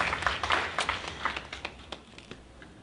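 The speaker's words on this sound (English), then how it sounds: "give me a hand of applause, please." A room of people gives a short burst of applause, individual claps clearly separated and thinning out toward the end.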